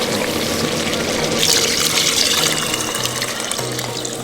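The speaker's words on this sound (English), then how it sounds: "Just add enough water just to cover it" Water is poured over meat in a pot for a Cambodian somlaw machu kroeung stew, a steady close splashing rush that runs continuously without a break.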